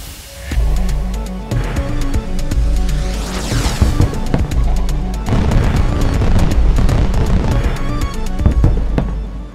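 Fireworks going off in a rapid, loud barrage of booms and crackling bursts that continue almost without pause for several seconds.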